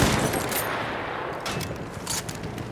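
Rapid gunfire in Battlefield 1, a dense rattle of shots and distant battle noise in a busy game soundscape, with no speech over it.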